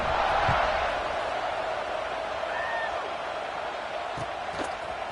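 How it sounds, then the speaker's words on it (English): A stadium crowd buzzes in a college football video game, a faint, steady roar of many voices that holds evenly throughout with a few soft thumps. "this crowd is buzzing after that last score"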